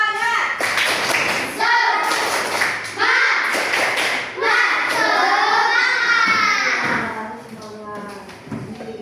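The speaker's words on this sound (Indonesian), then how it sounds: "Tepuk tangan." Hand clapping in a primary-school coding lesson: a quick run of sharp claps mixed with children's voices, loud and close, with kids chattering throughout.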